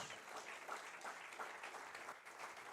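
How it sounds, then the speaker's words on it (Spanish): A church congregation applauds together during a Spanish-language sermon, with steady, dense clapping that holds for the whole stretch at moderate loudness and no voices on top. "Dale un aplauso fuerte a Dios."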